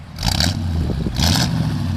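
A 1940 Ford Deluxe Convertible with a big steel-block engine idles steadily close by, heard from behind the car, its low rumble rising in two short louder surges like light revs.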